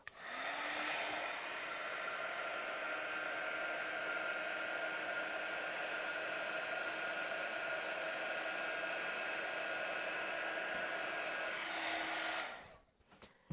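A heat tool blows steadily for about twelve seconds while melting polished gold superfine embossing powder on a handmade card, a constant loud hair-dryer-like roar that cuts off near the end, with no talking.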